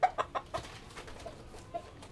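A live red chicken clucking in a few short, close bursts early on, then softer scattered clucks, alone with no talking.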